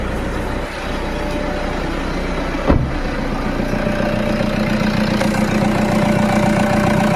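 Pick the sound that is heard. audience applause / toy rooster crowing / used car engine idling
used car engine idling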